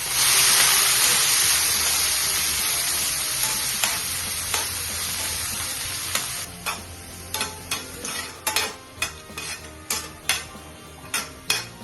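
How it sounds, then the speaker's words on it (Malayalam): Chopped bitter gourd frying in hot coconut oil in a pan hisses in a loud, dense sizzle that gradually eases. A spoon then starts scraping and clinking against the pan in a regular stirring rhythm. "എണ്ണ ചൂടായി വരുമ്പോൾ കയ്പയ്ക്ക അരിഞ്ഞത് ചേർത്ത് കൊടുക്കണം."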